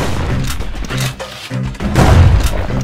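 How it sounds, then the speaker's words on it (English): Army carbine fire in the action video game Bastion, several heavy booming shots in quick succession with short pauses between bursts, loud and close, with a faint voice at moments. "Nothing beats the feel of shooting a Ceylonian army carbine."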